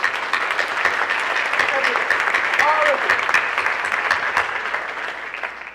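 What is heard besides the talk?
audience applause at senior class night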